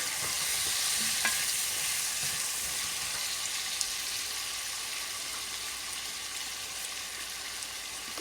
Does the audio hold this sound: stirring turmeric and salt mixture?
yes